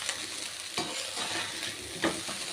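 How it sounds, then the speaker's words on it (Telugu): Chicken fried rice is stir-fried in a pan, with a steady close sizzle and a few scraping strokes of a spatula against the pan, no voices. "ఇలా మొత్తం కలిసేలాగా కలుపుకొని ఇది కొద్దిసేపు ఫ్రై చేద్దాం."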